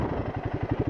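A Royal Enfield Himalayan motorcycle riding through forest, its single engine thumping in a fast, even low pulse, close and steady.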